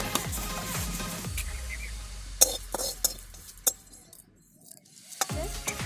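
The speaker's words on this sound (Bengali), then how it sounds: "এটাকে একটু শুকনো খোলায় রোস্ট করে আর গুঁড়িয়ে নিতে হবে।" Coriander seeds, whole dried chillies and cumin dry-roasting in a pan, heard as close scraping and stirring with sharp metallic clinks and taps that come at an irregular rhythm and trail off into near silence.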